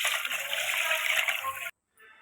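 Pigeon pea and moong lentils being washed in water inside a pressure cooker, a steady splashing, rushing wash for under two seconds that stops abruptly, followed by faint quieter trickling.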